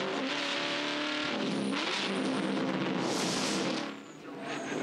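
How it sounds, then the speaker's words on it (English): Onboard sound from a Ford V8 ute racing at the Hamilton 400 street circuit, a loud, close V8 roaring and shifting with rising revs and a brief lift near the end. "Take a ride here with the BBC Racing Ford."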